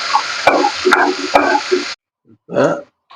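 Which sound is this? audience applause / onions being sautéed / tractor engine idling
onions being sautéed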